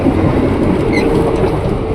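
A KRL commuter train pulls into Tebet station on track 1, its steady loud rumble and rolling wheel noise filling the platform, with a brief high squeal near the middle and no talking.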